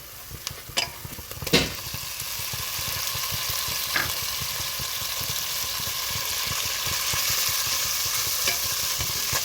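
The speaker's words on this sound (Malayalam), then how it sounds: "നമ്മുടെ ഉള്ളിയൊക്കെ ഇതാ നന്നായിട്ട് വഴണ്ട് വന്നിട്ടുണ്ട്" Onions sauté in a pan for prawn biriyani, a steady close sizzle and frying hiss with a few clinks of stirring near the start, no talking.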